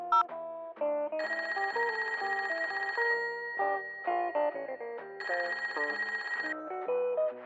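A telephone rings after a number is dialed, a bright electronic warbling ring in two long bursts separated by a gap, with shorter tonal blips around them, clear and fairly loud with no talking.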